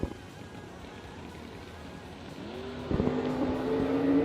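Drag race cars launch at a drag strip, a Camaro against a big Mopar: a steady engine rumble, then a loud rising rev as the pair pull away.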